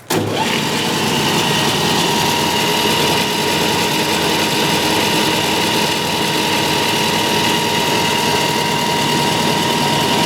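An Oster revolving die head threader with a belt that runs noisy until it softens gives a loud, steady mechanical drone that starts abruptly and holds unbroken for ten seconds, with no voices.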